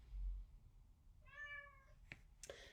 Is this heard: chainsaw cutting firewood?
no